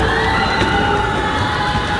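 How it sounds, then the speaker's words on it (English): Home crowd roaring in a school basketball gym during an 8th-grade Wallace vs Chapa game, a dense, steady wall of cheering and shouting with no break, loud and close, holding through a free throw. "Second shot coming as the Gym thunders. This Wallace home crowd."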